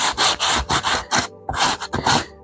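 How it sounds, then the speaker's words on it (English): Sanding block rubbed back and forth over flat sculpted flagstones on a tabletop terrain skull cave, loud close rasping strokes in a steady rhythm with one brief pause. "now we want to sand it flat back so that it's nice sort of level flagstones, and I'm just using a sanding block"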